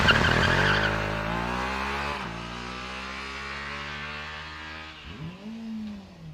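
A Formula Student race car on a dynamic run accelerates with a loud, rising high-pitched engine whine, drops briefly at a single upshift, then climbs again before fading as it passes, with a short tire squeal near the end.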